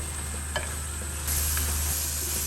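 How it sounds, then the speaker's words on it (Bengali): Prawns and water lily stems sizzle in a pan over raised heat, a steady close frying hiss with an occasional stirring clink, growing louder partway through; no one speaks. "চুলার আস বাড়িয়ে দিব এখন বাড়িয়ে এক মিনিটের মতো নাড়াচাড়া দিব"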